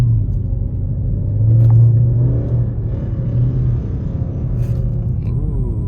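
An aftermarket wide-body car's engine rumbles loud and close, with a deep swell around the second mark before settling into a steady idle-like growl, and faint distant chatter beneath.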